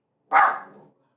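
A single short, loud dog bark sounds close by, sharp at onset and trailing off quickly into silence.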